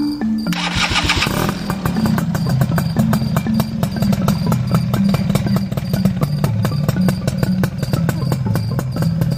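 A motorcycle with a modified exhaust starts up, then settles into a loud, rapid, pulsing idle that throbs steadily and close by for several seconds, with no voices.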